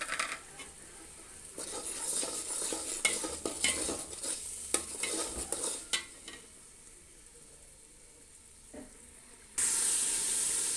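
Spices and chili powder frying and being stirred in a pot for chicken biryani, a steady close sizzle with repeated scraping clinks of the spoon, then quieter frying and a brief hiss near the end.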